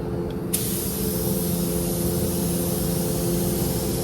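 A spray gun hisses steadily and loudly at close range while laying clear coat on a car panel for a paint blend, with one continuous burst and no speech.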